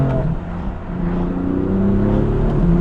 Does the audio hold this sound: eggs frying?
no